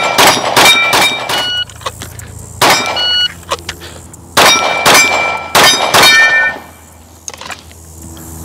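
Bullets strike steel shooting targets in a series of sharp, ringing clangs, several in quick bursts with pauses between, loud and close, each leaving a short metallic ring.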